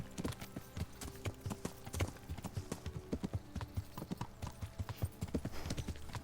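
Horse hooves clip-clop in a steady, continuous rhythm on a road in the video game Kingdom Come: Deliverance, fairly close and loud, mixed with ambient game sounds.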